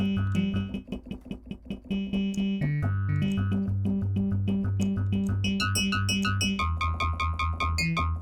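An MDA DX10 FM synthesizer plugin plays clanky, sharp-attacked metallic tones in rhythmic note sequences, with bell-like harmonics and shifting pitches, loud and alone.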